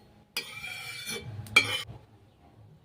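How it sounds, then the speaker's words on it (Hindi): Oil is spread across a hot tawa griddle with a utensil, giving two bursts of scraping and sizzling close by, with no talk. "तो तेल को मैं फैला दी हूँ।"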